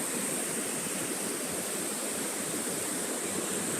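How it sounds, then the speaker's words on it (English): Good-sized ocean waves breaking on the shore at sunrise, heard as a steady, dense, unbroken roar of surf without distinct individual crashes. "These are fairly good-sized waves for the shore."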